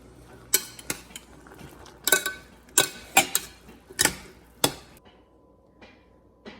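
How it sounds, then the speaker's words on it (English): A spoon stirs corn and beans in a cooking pot, giving a run of sharp, irregular clinks and scrapes against the metal, loud and close at first, then fading to a few softer taps. "Give it a little stir."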